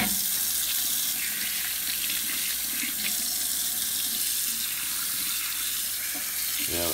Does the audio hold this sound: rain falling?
no